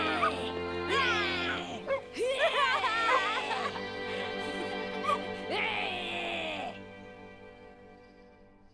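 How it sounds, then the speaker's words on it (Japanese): A dog in the video game Final Fantasy XVI gives several short barks, yips and whimpers in quick bursts. Steady background music plays under the sounds, and they fade out near the end. "マハムートが吠えた。"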